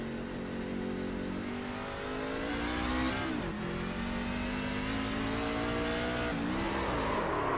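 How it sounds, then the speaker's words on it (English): Onboard race car engine revving hard and loud, with an abrupt gear change and a dip in pitch near the middle, followed by renewed acceleration; no talk. "it looked like he might have downshifted by accident, Josh."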